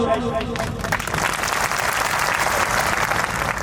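An audience at a village community meeting on social customs claps together, a dense, continuous round of applause that stays loud and even throughout, with a voice briefly audible at the start.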